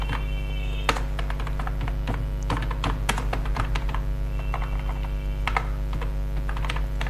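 Steady typing on a computer keyboard while entering text in WordPad, a quick irregular run of close key clicks with a few sharper strikes, over a constant low electrical hum.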